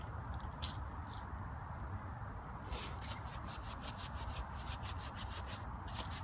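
A brush used to scrub dirt off plastidipped wheels is rinsed and rubbed, giving wet swishing and scrubbing strokes in a loose repeated rhythm, close and fairly quiet.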